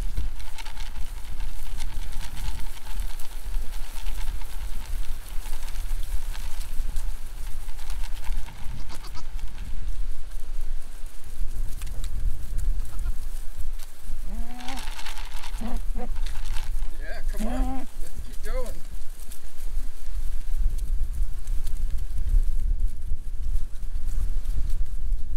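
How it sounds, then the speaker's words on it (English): Goats on a farm trot up to a fence, several bleating around the middle, with soft hoof clatter and outdoor rumble throughout. "Let's see if the goats come running."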